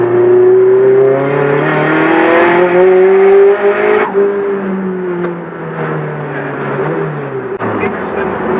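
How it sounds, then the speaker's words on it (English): A Nissan S15 engine pulls hard in third gear, its rising drone climbing steadily in pitch from low revs, heard from inside the car with voices talking over it. "That was a third gear pull as well, so low down, which is good."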